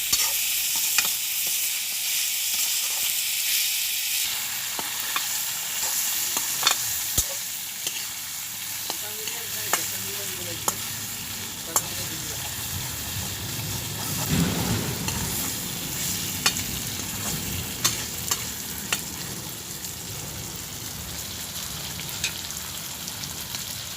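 Pork pieces sizzle in a pan with a constant frying hiss, while a utensil stirs and scrapes them in close, irregular clicks and knocks.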